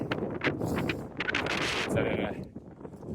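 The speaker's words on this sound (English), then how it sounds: "Still quite windy, but we're right at the top" Gusty wind buffets the microphone at a hilltop campsite in the Yorkshire Dales, coming in loud, uneven rumbling bursts over a few seconds.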